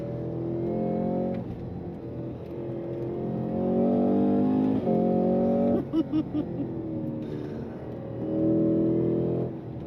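The V8 engine of a 2026 Cadillac CT5-V Blackwing revs repeatedly, rising and falling in deep throaty pulls with short gaps between bursts, loud and close.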